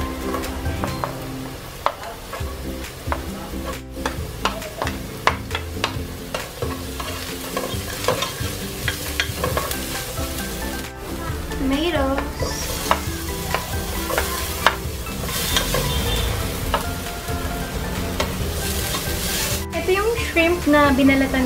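Garlic fries in a pan for sautéed bean sprouts, a loud continuous sizzle with steady stirring and scraping, plus occasional clinks and background music throughout.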